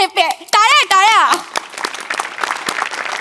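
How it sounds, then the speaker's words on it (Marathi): Applause breaks out at a Marathi stage comedy show, a dense patter of many hands clapping that follows a brief burst of voices and carries steadily to the end. "टाळ्या."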